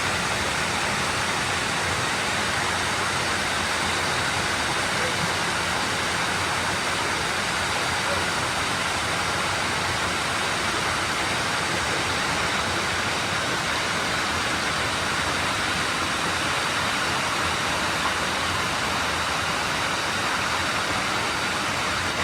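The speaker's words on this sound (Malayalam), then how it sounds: "എന്തടിപൊളി വാട്ടർഫോളോ നോക്കിയേ, നല്ല രസല്ലേ" A waterfall on a trekking route roars in a constant, dense rush of falling water, close and unbroken throughout the whole stretch.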